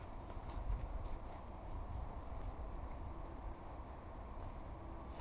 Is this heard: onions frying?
no